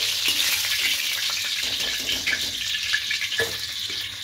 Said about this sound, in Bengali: দু পিসটা লাল লাল করে ফ্রাই করে দিয়েছি।